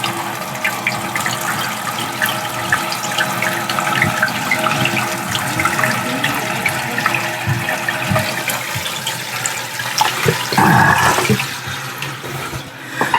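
Water rushes steadily into a Kohler toilet tank as it refills through a newly replaced canister valve, a continuous close hiss and trickle with a brief gurgling surge near the end.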